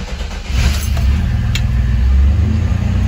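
Chevy S10 pickup with a freshly reconnected mass airflow sensor firing up: the engine catches after a brief crank and settles into a loud, steady close-up idle rumble.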